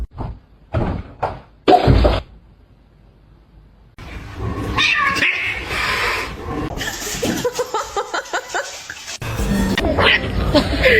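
A cat growls and yowls in bursts, with short sharp cries early, then a longer stretch of rough snarling and hissing sounds, close and loud.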